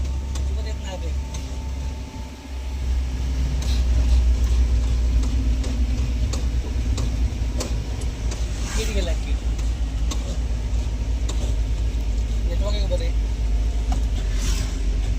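A heavy car descends Amboli ghat with brakes fully pressed, a steady loud engine and road rumble running throughout, with voices talking over it.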